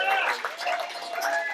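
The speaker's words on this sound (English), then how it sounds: "Give yourselves a round of applause for coming out" An audience at a live storytelling show claps in a brief burst of applause, a dense, hissing patter of hands that continues evenly through the moment.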